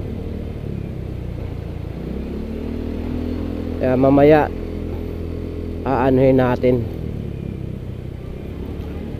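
A motorcycle pushes through deep floodwater on a street in Malabon, its engine a steady low rumble with two brief revving swells, while people talk nearby over the noise.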